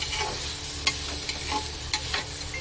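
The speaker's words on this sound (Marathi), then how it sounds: "छान असे तांदूळ परतायचे आहेत।" Rice is sautéed and stirred in a pan for paneer pulao, giving a steady frying sizzle broken by several sharp spoon clinks against the metal.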